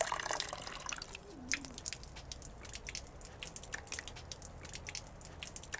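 Close, quiet drips of water fall in an uneven patter as a water supply is topped up in a children's show, with a low steady hiss underneath.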